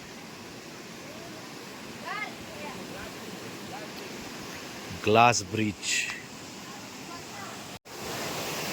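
A waterfall gurgles and rushes beside a glass bridge in the dark, a soft steady wash under a brief spoken phrase.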